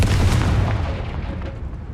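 A booming fire-spell blast in a Hogwarts wizarding game, a single deep explosion up front that rumbles and fades over two seconds.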